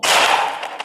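A single sharp pistol shot from the video game Melon Playground, loud and bright with a quick decaying tail.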